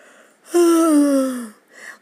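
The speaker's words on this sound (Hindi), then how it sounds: "उबासी आ गई" A long, drawn-out yawn with a falling vocal tone, close by, followed by a brief breathy sound.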